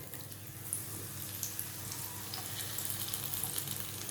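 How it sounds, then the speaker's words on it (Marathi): Chili fritters (mirchi bhaji) frying in hot oil, a steady low-level sizzle with faint crackling pops, close and continuous without talk. "आता अशाच पद्धतीने आपण या बाकीच्या पण ज्या आहेत त्या तळून घेऊया।"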